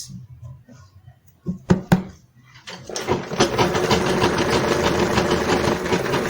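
A sewing machine stitching cloth along a seam for a Yoruba iro and buba outfit: a few single clicks and knocks, then a fast, steady rattling run of stitches, close and loud.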